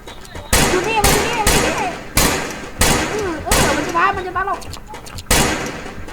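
Gunshots in a train-robbery video game ring out as sharp, loud cracks about every half second to a second, with excited voices talking between and over the shots.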